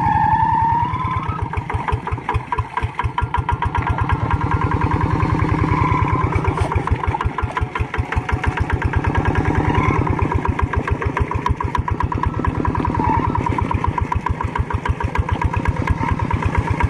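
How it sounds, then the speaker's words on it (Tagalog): A bogged-down farm machine's engine runs steadily in a field, giving a continuous, fairly loud, rapid chugging throb with no talk over it. "Nabulaho po ang kanilang makina."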